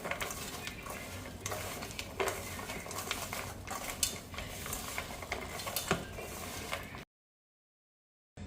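Dry pickle spice mix for a raw mango pickle, made with a little oil, rubbed and mixed by hand, giving a steady close-up scraping, crumbling texture of spices against a vessel, without talk.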